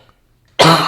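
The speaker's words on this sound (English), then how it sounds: "We're going to call this the cough episode" A single sharp cough bursts out near the microphone after a moment of near silence, during a casual conversation about a film.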